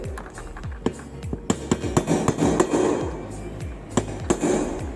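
A nail is hammered through a lid to punch a hole while making a homemade tambourine, giving a run of sharp, close metallic hammer strikes in quick irregular bursts.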